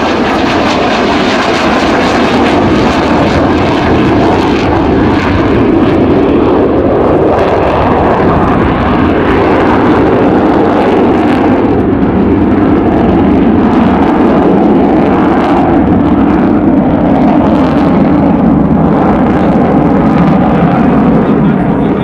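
Avro 698 Vulcan B2 bomber XH558 flying a display at the RAF Fairford RIAT 2015 airshow, a loud continuous jet roar that swells and shifts as the aircraft passes, with crowd voices faintly underneath.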